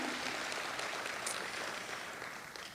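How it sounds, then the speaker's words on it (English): An audience at the Santa Ana State of the City 2024 applauding the city's mayor, a dense, steady wash of clapping throughout that fades slightly toward the end. "Applause for my cousin."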